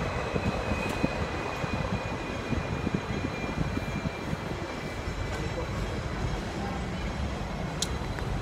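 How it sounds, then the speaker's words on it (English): Continuous rumbling clatter of a tram rolling along rails in Hong Kong, with rhythmic wheel knocks and a faint high whine, a voice talking softly beneath. "So we are riding the tram."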